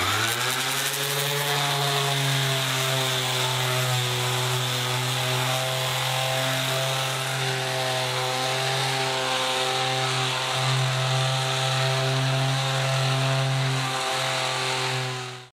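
An electric sander powered by an Allpowers 2400W power station runs without pause for about fifteen seconds, a loud, steady motor whine with a strong hum, cutting off abruptly at the end.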